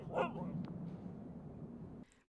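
A dog in The Pale Beyond, a game set in icy waters, gives a short bark and yip near the start, followed by a low steady ambient hum.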